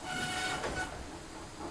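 An animated toy steam train rumbles and clanks along steadily as it pulls into a station, with a brief high whistle-like tone near the start, fairly close and continuous.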